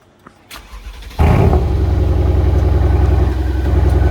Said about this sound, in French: est-ce que tu peux démarrer juste 30 secondes la voiture? On va vous faire écouter.